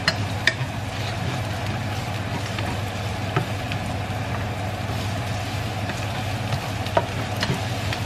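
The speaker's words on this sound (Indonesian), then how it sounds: "Kita tumis, kita tunggu sampai dia harum ya." Bean sprouts stir-fried with pepper, chili, spring onion and tomato in a pan, a steady broad sizzle with faint clicks of stirring and a low background rumble like passing traffic.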